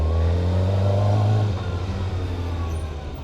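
Kawasaki Ninja motorcycle engine revving close by, a strong low growl that holds and then drops away as the revs fall, settling into a rougher, quieter idle-like rumble.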